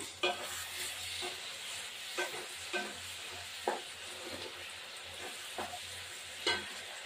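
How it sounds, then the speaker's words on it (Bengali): Minced meat chicken curry sizzling in a pan while a spoon stirs it, giving a soft steady fry broken by several scraping strokes at irregular intervals, close and with no talking. "এবার এটা নাড়া দিলাম।"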